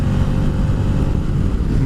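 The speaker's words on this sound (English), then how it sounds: "It's got a huge engine, which I'm going to use right now for my advantage" An Aprilia Caponord motorcycle with a big engine pulls hard under acceleration, a loud, steady, throaty engine roar close by, with no voices over it.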